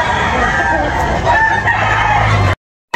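Rooster crows loudly at a busy chicken market, a drawn-out call over dense crowd noise and clucking, ending in a sudden brief cut to silence.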